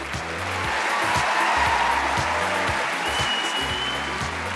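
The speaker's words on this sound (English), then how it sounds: "Give them a round of applause." Studio audience applause at a Britain's Got Talent show, a dense sustained clapping wash that stays loud and steady throughout, with rhythmic music pulsing underneath.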